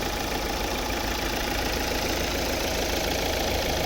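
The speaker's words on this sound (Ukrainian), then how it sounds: "ось робота двигуна. Ну, Тихо, рівно все працює." A 2014 Volvo V60 with the 2.0 D4 diesel engine and automatic gearbox idles, giving a steady, even hum that holds constant and close throughout with no voices.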